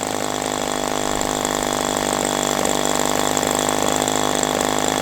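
A Magnum 65 GPSE gasoline model airplane engine fitted with a three-blade propeller, running steadily at around 3,000 RPM with a constant buzzing drone and slight unevenness, close and continuous without voices.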